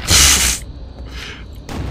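A loud, broad burst fires from the BFG in Quake 2, lasting about half a second before it drops to a lower rumble, and a second, quieter surge follows near the end.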